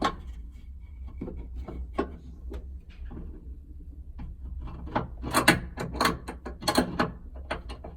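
An adjustable wrench turns a nut on a vintage Auto-Photo Model 14 analog chemical photo booth, giving sparse metallic clicks and scrapes that grow into a cluster of sharper ratcheting taps near the end, heard up close.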